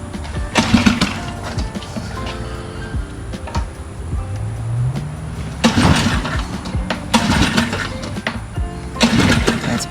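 A tiny outboard motor is pull-started in repeated bursts, sputtering and puttering in uneven, close, loud spurts with a rising rev in between.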